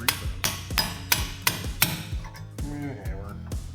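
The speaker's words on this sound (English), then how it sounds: "I guess just knock them out with a punch" Sharp metallic hammer blows strike a punch to knock out parking brake parts on a BMW E46, five hard evenly spaced hits followed by lighter taps and metallic clinks.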